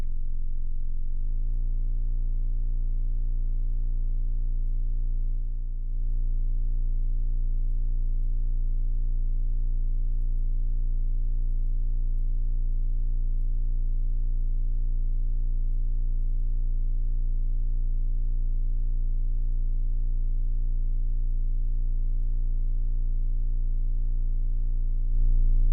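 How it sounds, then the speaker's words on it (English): Sustained synth pad tone from a Reaktor patch, an LFO routed to its filter, holds steady and loud for the whole stretch, with a slow subtle pulsing and a brief dip near the start, no voices present. "we routed an LFO to the filter"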